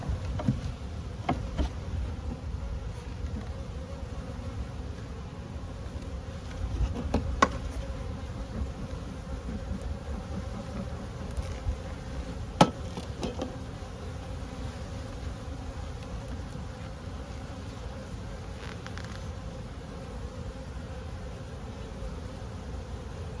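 Honeybees swarm around an open nuc hive in a dense, steady drone. Now and then a single bee buzzes close past, with faint handling clicks in the background and no speech.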